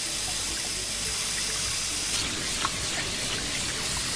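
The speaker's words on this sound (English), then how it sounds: "Bottom plugs must be opened carefully and under controlled conditions to drain water from the ballast tanks." Water drains steadily from a ship's ballast tanks through opened bottom plugs, a continuous hissing splash that is fairly faint, even and unbroken.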